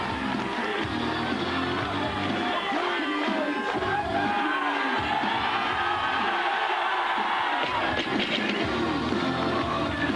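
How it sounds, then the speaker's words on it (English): A big crowd chants for a competitor at the 2006 IFSA Finland Grand Prix strongman event, a dense, steady roar of many voices with rhythmic shouts and whoops continuing throughout. "Big crowd now chanting for Jani Ilkkainen"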